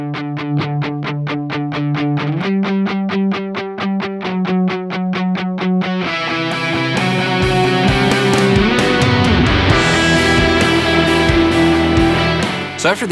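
Doubled octave electric guitar part played through a gainy Dr. Z Maz profile on a Kemper: loud, distorted, rapidly repeated chugging notes that shift pitch, then swell into a denser, fuller wall of sound.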